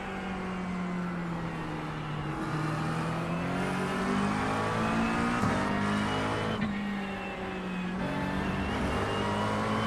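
A GT3 race car in iRacing at Spa powers out of a corner, its engine revving and climbing steadily through the gears with a sustained, loud, close roar and brief dips at each shift.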